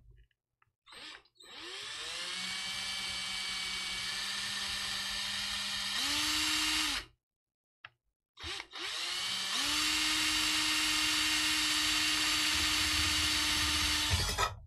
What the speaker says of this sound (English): pretty lucky I didn't bust the drill bit on that one